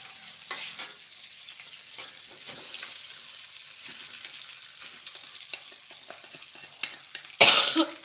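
Nasi goreng kampung fries in a pan with a steady, bright sizzle. Occasional stirring scrapes and a cough break through, and a louder burst of hissing comes near the end.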